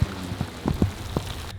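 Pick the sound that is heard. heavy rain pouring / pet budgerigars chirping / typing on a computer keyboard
heavy rain pouring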